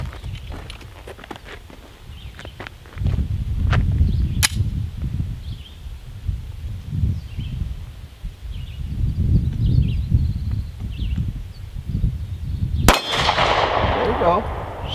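A gunshot at an outdoor shooting range: one sharp, loud report near the end with a ringing decay, after an earlier fainter crack and scattered handling clicks over a low, rumbling outdoor background.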